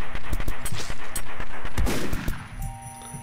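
Rapid bursts of shotgun fire in a block-style video game, several loud sharp blasts in quick succession with metallic clangs, thinning out toward the end, no talking.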